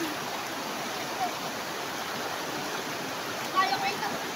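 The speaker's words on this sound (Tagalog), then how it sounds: "Lakas ng tubig oh." A strong stream rushes with a constant, even hiss of flowing water, heard at moderate distance and fairly low level.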